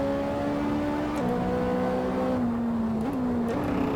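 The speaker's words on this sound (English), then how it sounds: "As obnoxious as it sounds when the car goes over the curb like that" A race car engine in the Assetto Corsa racing game drones at a steady, loud pitch, dipping and jumping briefly as the car bumps over a curb.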